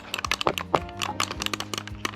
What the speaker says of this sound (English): In case some of you guys wondering about the clicking noise.